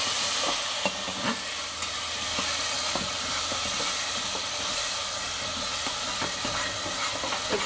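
Water poured into frying masala for a mutton curry, a steady broadband hiss and sizzle with occasional clinks of stirring, continuous and fairly loud with no voices.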